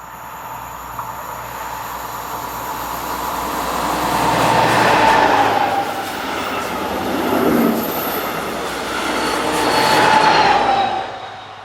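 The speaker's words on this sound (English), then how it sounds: "Numbers 218444 and 218418 round the curve just west of Wiedenbach, whilst powering the 1536 from Muldorf to München." Two class 218 diesel locomotives, 218444 and 218418, haul a passenger train round a curve west of Wiedenbach, a loud continuous rumble that swells and fades twice with a faint wheel squeal, no voices.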